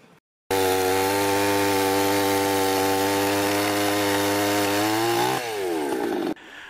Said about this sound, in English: I'll get the old chainsaw out.